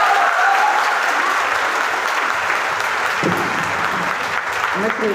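An audience claps at a health-plan seminar: dense, steady applause that runs the whole stretch at full strength, with some voices mixed in near the end.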